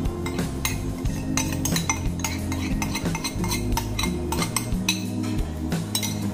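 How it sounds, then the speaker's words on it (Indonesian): A spoon or whisk stirs thick coffee chocolate cake batter in a bowl, producing rhythmic scraping and soft clinks against the sides, close and steady with no talking. "Nah kita aduk semua jadi satu sampai rata ya"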